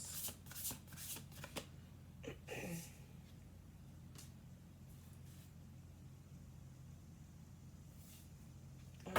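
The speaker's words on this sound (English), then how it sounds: "Okay, we're going to do 2 more shuffles." A deck of oracle cards is shuffled up close in a few quick, crisp riffles and flicks, followed by near silence.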